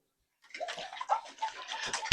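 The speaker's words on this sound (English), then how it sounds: "Let me pour my juice as well." Juice is poured into a glass chilled in the freezer, a close, continuous gurgling pour starting after a brief silence and ending in a sharp clink.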